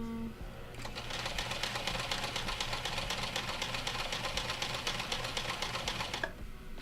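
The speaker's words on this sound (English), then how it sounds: "I'm gonna have to sew that down extra," A sewing machine stitches a seam in a home sewing session, a fast steady mechanical chatter that starts abruptly, runs evenly for about five seconds, then stops, with quieter room sound before and after.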